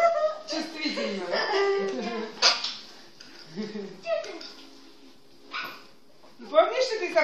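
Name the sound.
dog barking and whimpering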